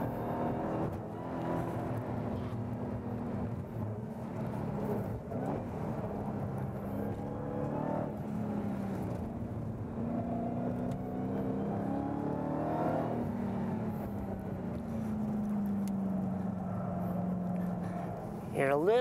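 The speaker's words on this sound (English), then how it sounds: "Hear a little bit of tire noise" A race car at the Bondurant driving school drives on a track, its engine holding a steady, droning tone that rises slightly as it builds power, with tire noise beneath and someone talking over it throughout.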